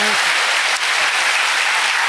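A worship congregation bursts into loud applause to give glory to God, a dense and close roar of clapping that stays steady and full throughout, with a brief voice near the start.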